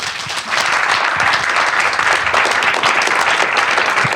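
Audience at a comics new-talent panel at Thought Bubble 2019 applauding a speaker, a full continuous round of clapping that swells in after a brief quieter start and holds steady.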